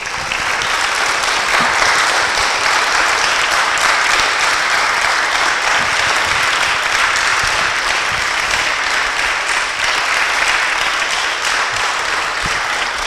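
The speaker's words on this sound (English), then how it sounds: "Can we give Edward a round of applause," Audience at a book launch for a British Rail Class 60 locomotives book applauding the author, sustained even clapping lasting the whole stretch with little talk.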